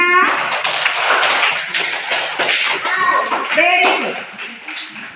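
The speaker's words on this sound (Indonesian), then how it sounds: "Tepuk tangan untuk semuanya." A classroom group of students bursts into loud, dense applause after a quiz answer, sustained clapping close by with voices calling and chattering over it before it tapers off.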